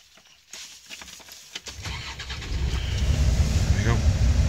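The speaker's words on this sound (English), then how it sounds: "There we go. The vehicle runs." A Land Rover engine cranks and catches, then settles into a steady, loud idle with a low rumble that builds and holds over several seconds.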